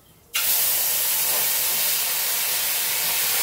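Fish curry with cumin bursts into a loud, steady sputtering hiss in the pan after a brief quiet moment, then keeps boiling and spitting close up without letup.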